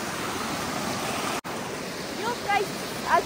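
Steady broadband rush of flowing water outdoors, continuous and fairly loud throughout, with a brief dropout and a few faint chirp-like sounds toward the end.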